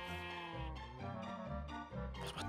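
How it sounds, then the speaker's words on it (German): A Minecraft sheep bleats several times in a row, clear and fairly close, with no talking over it. "Was macht dieses Schaf da?"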